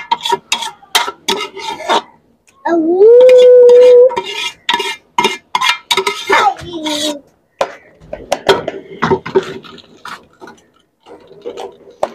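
Carrots stirred in a kadhai for gajar halva give repeated close clinks and scrapes of a spoon against metal, with a brief loud tonal squeal partway through.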